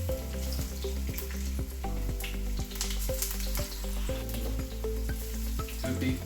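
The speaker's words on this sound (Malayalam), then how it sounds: "തീ കൂടിയിട്ടില്ല, അപ്പം കരിഞ്ഞു പോകാത്ത രീതിയിൽ വറുത്തെടുക്കും." Cabbage and carrot bajji frying in oil over a low flame, a dense, even close sizzle with bursts of bubbling, carried on over a steady low hum with no talking.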